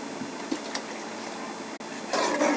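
Water added to a tamarind fish curry in a pan, a soft continuous liquid hiss and trickle with small clinks, growing louder and splashier toward the end.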